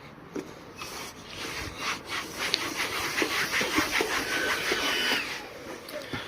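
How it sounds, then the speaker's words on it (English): Wet microfiber towel wiped over the neglected paintwork of a rare Fiat Stilo Abarth during restoration, producing close, soft rubbing swipes with slight squeaks and a hissy wet texture, heard alone. "Now we are going to use a wet microfiber towel like this."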